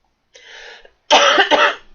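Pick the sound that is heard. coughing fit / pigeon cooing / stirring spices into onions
coughing fit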